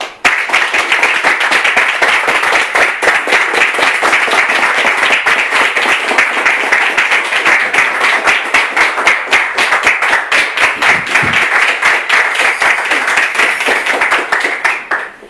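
Studio audience on a television talk-show set breaks into loud, dense, sustained applause, a steady wall of clapping that holds for about fifteen seconds before cutting off.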